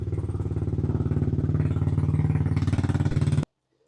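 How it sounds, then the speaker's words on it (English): A Yamaha R125 motorcycle engine idles steadily for about three and a half seconds with a close, even single-cylinder thump, running to warm the oil before a clutch cover job, then stops abruptly. "you need to leave the bike running for 3 to 5 minutes, no more. Don't rev it"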